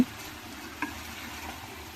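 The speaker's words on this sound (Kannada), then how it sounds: "ನಾನು ಮತ್ತೆ ತಿರುವಿ ಮತ್ತೆ ಲಿಡ್ ಕ್ಲೋಸ್ ಮಾಡ್ತಾಯಿದ್ದೀನಿ" Pumpkin curry in a pan gets a brief stir, a faint soft scrape and low simmering hiss with a small clink partway through, quiet and close.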